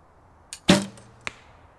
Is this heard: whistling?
no